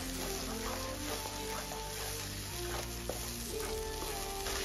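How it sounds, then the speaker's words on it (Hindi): Onion paste frying in a pan for restaurant-style paneer butter masala gives a faint steady sizzle with light stirring clicks, heard under a hum and some tonal background sound. "इसे हमें अच्छे से भून कर लेना है।"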